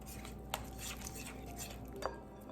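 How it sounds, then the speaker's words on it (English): Shredded cheddar and mozzarella being mixed in a bowl for homemade lasagna, soft continuous stirring with two sharper clinks of utensil against the bowl, close and quiet with no speech. "Mix together, mix together."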